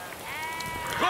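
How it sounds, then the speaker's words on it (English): A single sheep bleats close by on a country lane, one short wavering cry that rises and ends sharply. "Will you move your sheep?"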